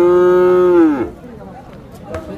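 A young calf at a village cattle market in Paragram gives one loud, close, drawn-out moo that falls away after about a second, leaving quiet market background.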